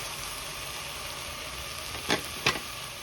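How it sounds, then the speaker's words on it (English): Onion mixture cooking in ghee in a pan for a chicken and yogurt curry, a steady soft sizzle with two brief scraping stirs near the end. "add your onion mixture. Now you want to cook this for about 5 minutes"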